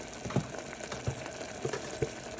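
Turmeric and salt fry in a pan while goat paya is cooked, giving soft, sporadic crackles and light sizzling pops over a steady low hiss, close by with no talking.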